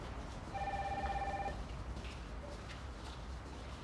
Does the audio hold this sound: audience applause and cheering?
no